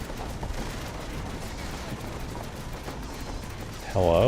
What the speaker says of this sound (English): Bullets are coming out of nowhere.